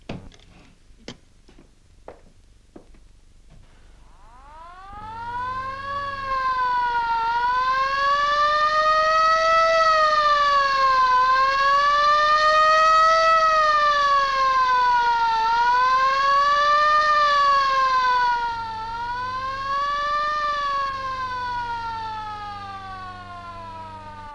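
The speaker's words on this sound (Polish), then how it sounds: "Natychmiast włączyć syreny alarmowe" A few sharp ticks, then a civil defense air raid siren winds up and wails loudly for many seconds, its pitch rising and falling in slow waves, at a railway station during an air raid alarm.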